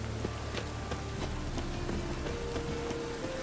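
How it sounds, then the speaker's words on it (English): Rain pattering steadily in The Witcher 3 Wild Hunt, a dense even hiss of drops on surfaces with faint clip-clop accents and a soft tonal game sound underneath. "The rain will ruin it."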